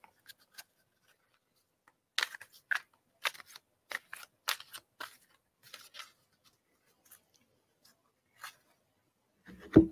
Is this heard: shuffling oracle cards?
yes